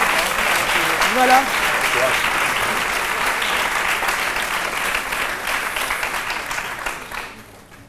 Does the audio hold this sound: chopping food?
no